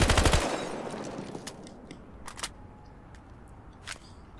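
Gunfire in Battlefield Hardline, a loud close burst of rapid automatic shots at the start, followed by a few scattered sharp single cracks trailing off into a quieter background.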